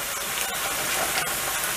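Grated tomatoes hit a hot pan of sautéing minced meat for pasta sauce, giving a steady broad steamy hiss and sizzle that stays constant throughout with no talk.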